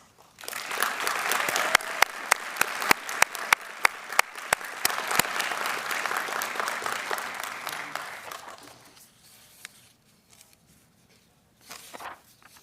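Applause from an audience at a Fort Leavenworth military graduation ceremony for university students, a steady crowd clapping for about eight seconds with a few sharp nearby claps, then fading into quiet room tone and faint movement.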